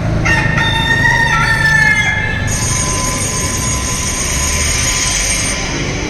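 A rooster crows loudly and close, its drawn-out call ringing over a harsh metallic squeal like train wheels that persists alone after the crow fades.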